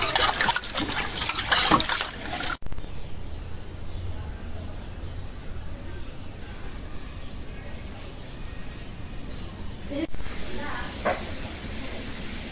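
Freshly cut bacha fish from the Padma river being rinsed in water in a village kitchen: a few splashy bursts at the start, then a steady hissing wash of water running on.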